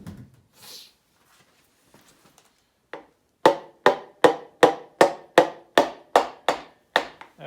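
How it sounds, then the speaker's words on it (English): A hammer taps a piston into the cylinder of a GM Mercruiser 153 engine in a steady rhythm of about a dozen sharp knocks after a few quiet preliminary touches, close and distinct, with no voices. "You really don't need to use the hammer to hammer the piston down in."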